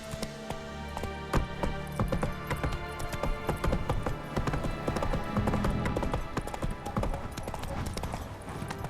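Roach, a horse in The Witcher 3, gallops with a steady rapid clip-clop of hooves, close and continuous over quiet background ambience.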